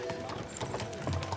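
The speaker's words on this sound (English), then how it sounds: "Whip those fucking horses." Horse hooves clip-clop in the video game Kingdom Come Deliverance II, a quick irregular rhythm of nearby steps mixed with cart and ambient game sound, with voices talking over it.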